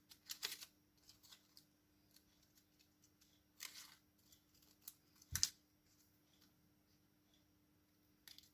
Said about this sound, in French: je vais venir découper ma fleur pour ne garder que la fleur